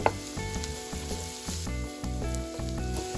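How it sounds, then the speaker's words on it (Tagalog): Minced garlic, a whole head's worth, sizzles and fries in olive oil in a pan, a continuous loud crackling hiss that runs the whole time, with music playing along underneath. "I prefer to brown the garlic before adding the onions"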